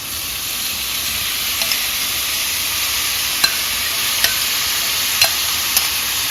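Tofu sizzles steadily in a hot pan for a Dominican-style tofu guisado, a dense, even crackle broken by a few sharp taps of a utensil against the pan.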